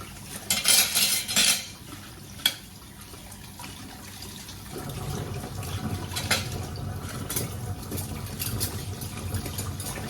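Dishes being washed by hand at a sink in a home in Israel: cutlery and plates clatter loudly in a burst near the start, then a sharp clink, followed by steady running tap water.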